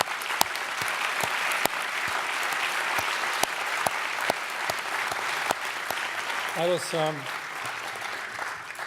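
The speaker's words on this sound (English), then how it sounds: "they certainly deserve another round of applause" Audience applause for recognized companies at a philanthropy event, a steady wash of clapping with sharp individual claps, a brief voice breaking in near the end.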